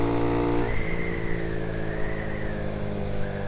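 Honda C90 170cc motorcycle engine revving on the throttle, rising from a steady drone into a loud, continuous higher-pitched whine that holds close and unbroken.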